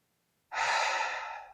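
A single deep, breathy exhale or sigh starts abruptly after silence and trails off slowly, close and soft, part of an intentional breathwork exercise.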